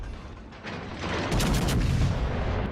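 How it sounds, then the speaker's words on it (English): Naval guns fire in World of Warships: Legends, targeting a Bismarck battleship: heavy booming salvos roll over a dense, continuous rumble of battle noise, loud and close. "Shots out on Bismarck."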